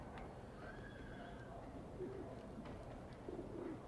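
Pigeons coo faintly on city rooftops in the video game Alice: Madness Returns, soft low calls repeating over a steady ambient game background.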